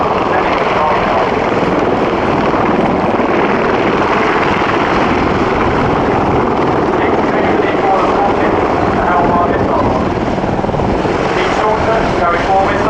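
An Apache attack helicopter flies at the RIAT 2015 airshow, its rotor and turbine roar loud and continuous throughout, with a dense broadband wash and faint rhythmic blade pulsing.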